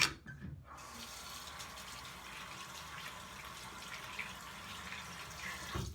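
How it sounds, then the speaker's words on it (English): Hands washed under a running tap in a sink, a steady close splash of water lasting several seconds after a brief quiet start. "I'm gonna wash my hands."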